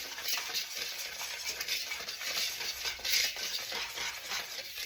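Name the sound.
whisking dry ingredients with nutmeg in a bowl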